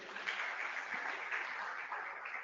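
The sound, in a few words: audience applause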